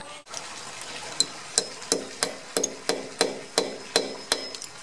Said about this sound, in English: There's one guy who's diligently chipping off a lot of old cement.